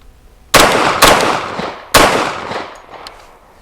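A Grand Power Stribog SP10A3 10mm carbine fires three loud, close shots, two in quick succession and a third after a short pause, each sharp crack trailing into a decaying echo, with no talking.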